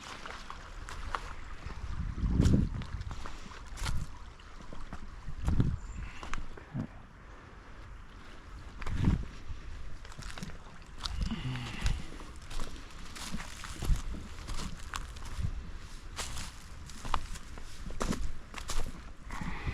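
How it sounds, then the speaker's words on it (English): Water sloshes inside a backpack as a hiker walks a soft trail in Pine Quarry Park, rhythmic gurgles and splashes rising with each step over footfalls and light wind, with no talking. "Water sloshing in the backpack."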